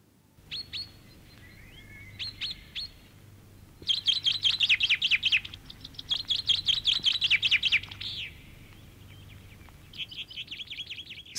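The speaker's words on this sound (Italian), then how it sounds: "Sfringuellare del fringuello." A chaffinch delivers bright, rattling song phrases, descending trills repeated after pauses, close and clear over faint background hum.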